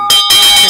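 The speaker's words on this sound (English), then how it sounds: "You dey ring this bell for we." A hand bell rung at a morning devotion gathering gives two loud, bright clangs in quick succession, the second ringing on with shimmering overtones.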